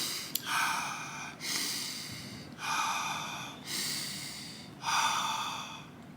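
Slow, deliberate breaths in a meditative breathing demonstration: about four long, airy exhales or inhales spaced evenly, close and clear with quiet pauses between.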